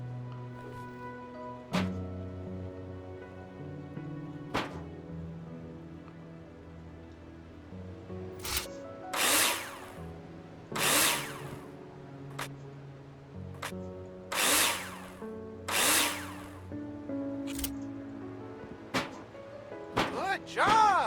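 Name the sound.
power drill screwing profiles, from video game Builder Simulator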